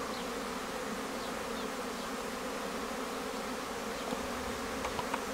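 Many honeybees hum and buzz in a steady drone at a hive entrance, a busy mass flight close by with occasional louder passes.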